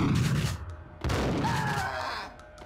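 Gunfire in the Max Payne video game: a couple of sharp loud shots with booming echo, followed by a ringing tone and low rumble, with no voices over it.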